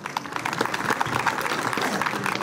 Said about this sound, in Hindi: एक बार जोरदार तालियां हमारे आदरणीय गुरुजी के लिए।